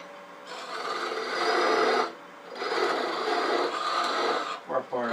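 A wooden owl being parted off on a wood lathe, a close scraping, rasping cut in two sustained passes separated by a brief pause, fairly loud, with no voice over it.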